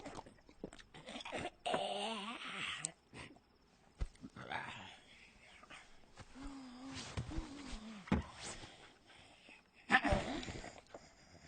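A dog whines and barks at night in a Bollywood comedy scene, with whimpering yelps and short barks coming in bursts among other noises at moderate loudness, no talk over them.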